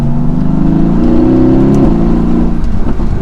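A 2016 Mercedes-Benz AMG GT S pulling hard on the road, its loud engine and exhaust droning and rising in pitch through a gear change, heard from inside the car without talk.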